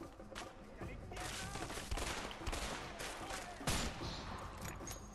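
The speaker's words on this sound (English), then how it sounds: "Oh, I am missing all these shots." Rapid, continuous gunfire in a tense shootout in A Way Out: dense, overlapping shots crackle steadily for several seconds with no break, loud and close.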